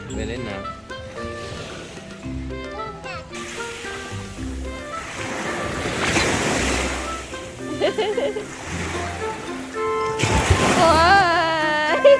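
Strong ocean waves crash and wash up on a beach, building to louder surges toward the end, while people talk and call out nearby.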